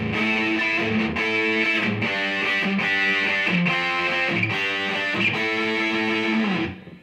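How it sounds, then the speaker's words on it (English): Heavily overdriven electric guitar chugs through a run of thick, saturated chords in a steady rhythm through a Boss Katana Artist MkII amp with gain fully up, loud and close, before the last chord is choked off. "mess with the gain, crank the gain all the way up."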